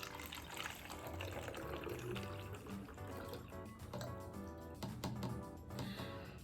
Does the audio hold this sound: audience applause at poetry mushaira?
no